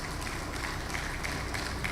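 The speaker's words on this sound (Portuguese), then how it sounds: "Vamos aplaudir nosso Deus bem forte." A church congregation at a sermon claps in a dense, steady wash of applause, with faint periodic accents throughout and no clear speech.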